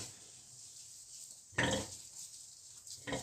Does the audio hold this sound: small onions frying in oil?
no